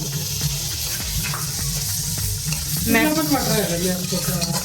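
Green peas tipped into hot oil in a pan for a Marathi-style matar paneer curry, giving a steady broad sizzle that swells louder near the end, with faint clinks and a voice talking over it.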